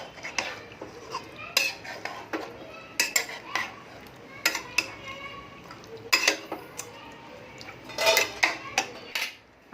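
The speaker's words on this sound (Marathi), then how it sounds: "आता हे आपण मिक्स करूया." A spoon stirring Sangli-style chicken curry with salt in a metal pot, making repeated close metallic scrapes and clinks in irregular bursts.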